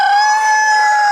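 A free-ranging rooster crows loudly and close, one sustained, strongly tonal cock-a-doodle-doo call filling the clip without talk.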